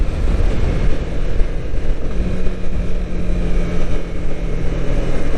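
Honda CB250R motorcycle engine holding around 5,000–6,000 RPM on a ride, a loud, steady droning hum with wind rush, fairly even throughout with slight fluctuations.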